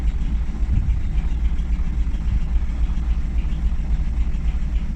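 A Leyland Leopard bus engine idles steadily after starting, a loud, low, continuous rumble with an even throb and no talk.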